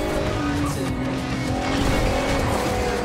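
A Porsche SUV drives off-road in Forza Horizon 2, a loud continuous engine roar with a steady drone and some tire noise throughout.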